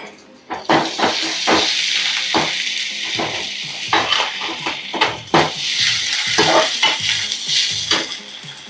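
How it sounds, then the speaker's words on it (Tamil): Onion with ginger-garlic paste sautéing in a pan on the stove, a steady close sizzle and hiss with repeated scraping stirs and light clinks of the spatula against the pan throughout. "வெங்காயம் இஞ்சி பூண்டு பேஸ்ட்டு நல்லா வதங்கினதுக்கப்புறம் தக்காளி."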